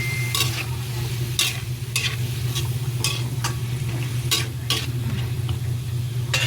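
Adobo sizzling in a pan as soy sauce goes in, a steady frying hiss under a low hum, punctuated by regular bright scraping and clinking strokes of a utensil stirring.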